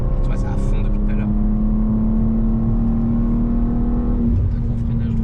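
A BMW M2 holds full throttle on the Nürburgring, its engine a loud, sustained in-cabin drone with a steady pitch that shifts near the end, while people talk over it in French.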